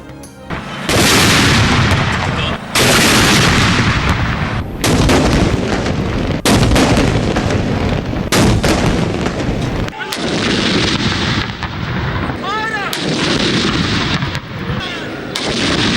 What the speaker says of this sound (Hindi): ईद मिलादुन्नबी सल्लल्लाहु अलैहि वसल्लम और यौम दिफा के दिन के आगाज़ पर तोपों की सलामी